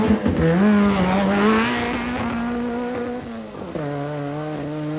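A rally car twitches off the start line at a 1989 forest rally stage, its engine revving hard and climbing through the gears, loud and close at first, then easing slightly before pulling away again.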